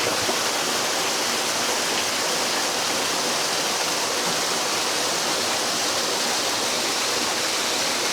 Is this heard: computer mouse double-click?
no